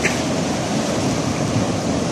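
Strong ocean waves surging at a beach, a loud, continuous rushing wash of surf filling the short stretch without talk.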